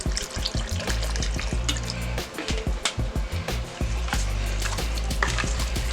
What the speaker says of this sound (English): next thing we're gonna add is some of our V8 juice